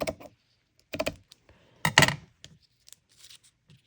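Scissors cut through a gel print in three or four distinct, close snips separated by pauses, with quiet paper handling between them and no voices.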